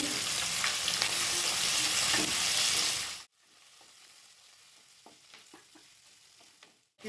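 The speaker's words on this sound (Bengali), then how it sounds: "এবার আমি এতে পেঁয়াজ দেবো। পেঁয়াজগুলোকে ভেজে নেব।" Onions sizzling in a hot pan for a homemade chicken chop, a loud steady fry that cuts off abruptly partway, leaving a quieter crackle with faint scattered pops.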